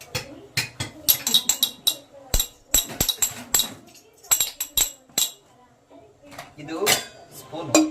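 A spoon clinks and clatters against steel dishes in a home kitchen, with a run of sharp, irregular metallic knocks and taps, close and loud, while people talk in between.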